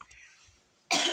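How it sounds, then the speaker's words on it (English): A single throat clearing at close range, sharp and brief, coming in after a near-silent stretch with no talk. "Sorry to keep clearing my throat."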